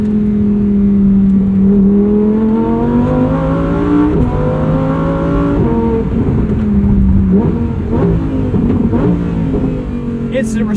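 A 2023 Lamborghini Huracan Tecnica engine revs hard and steadily under acceleration from inside the car, its loud tone climbing through rising pitches with brief dips at shifts of the seven-speed dual clutch, continuous and dominant throughout.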